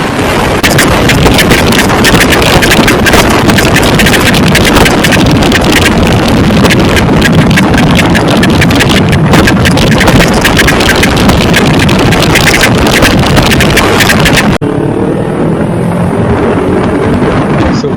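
Loud, continuous engine roar of a Kawasaki Ninja 300 motorcycle's loud exhaust on a highway, mixed with heavy wind buffeting, dropping to a quieter rumble near the end.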